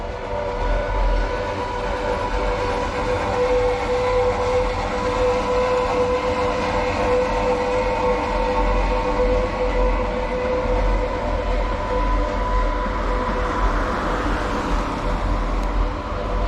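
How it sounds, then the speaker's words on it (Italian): A small rack train descending from Superga above Turin, a steady rumbling roll of wheels and carriages with a faint squeal, continuous and fairly close throughout, no talking. "ecco, si sente il trenino."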